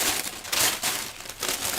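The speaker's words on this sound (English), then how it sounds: "Did I just crush the sticker up?" Close, crackling rustles of a paper sticker being crumpled, coming in several quick bursts over a couple of seconds.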